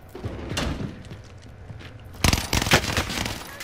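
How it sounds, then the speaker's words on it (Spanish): Gunfire from the video game Call of Duty: Modern Warfare, with a few scattered shots early and then a louder, denser burst of rapid firing near the end. "Fallé los tiros por culpa tuya"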